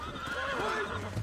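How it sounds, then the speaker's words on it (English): A horse in Red Dead Redemption whinnies loudly and close, a long wavering neigh with faint hoof clip-clop beneath it, with no voices. "Come here, stupid horse."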